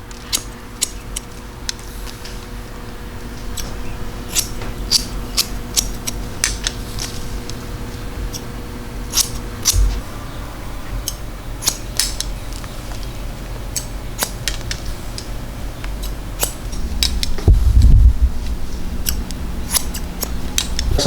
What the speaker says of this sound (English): So just cut the top with scissors.